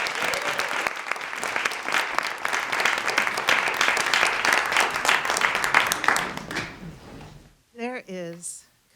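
Audience applause at a live storytelling event, a dense sustained burst of clapping from a crowd that fades after about seven seconds, followed by a brief voice.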